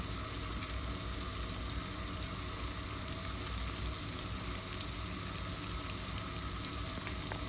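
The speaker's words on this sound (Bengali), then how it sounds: "এখন ভাজা ভাজা হতে থাক।" Green chillies and salt fry in a pan, giving a low, steady sizzle that runs on evenly without pause and stays fairly quiet, with no voices.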